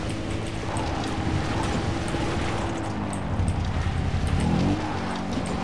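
A car engine drones steadily in the Far Cry 3 video game as the vehicle drives downhill and drifts, with a faint tire squeal near the end.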